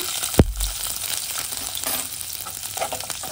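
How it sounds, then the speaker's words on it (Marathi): Cumin seeds, green chili and peanuts hitting hot oil in a pan: a sharp thud as they drop in, then a continuous close, crackling sizzle that carries on steadily to the end. "आपलं तेल इथे गरम झालेलं आहे, त्यामध्ये मी जिरे टाकतेय, ग्रीन चिली टाकतेय, आपले शेंगदाणे जे घेतले ते मी टाकतेय।"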